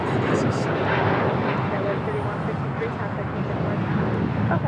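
An Air France Boeing 777-300ER airliner arriving on the south side at LAX produces a steady jet engine roar, fairly loud and sustained, with a person talking over it.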